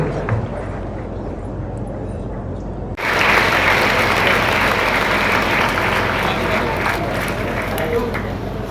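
An audience breaks into sustained clapping partway through, the applause swelling suddenly and continuing steadily under a murmur of voices at a public gathering.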